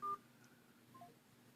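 A phone keypad gives one short, clear digit tone, then fainter tones follow on a quiet line.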